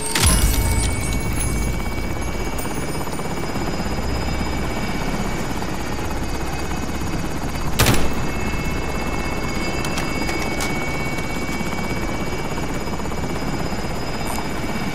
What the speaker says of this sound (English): Hostile attack chopper carrying cash.